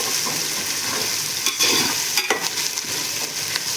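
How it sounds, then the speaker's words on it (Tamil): Pulav masala fries and sizzles in a pan, with a steady hiss broken by a few scraping, clattering stirs of a spoon, close and fairly loud with no voices. "நாங்கள் நல்லா குக் பண்ணிவிட்டு நல்லா ஃப்ரை பண்ணிவிட்டு"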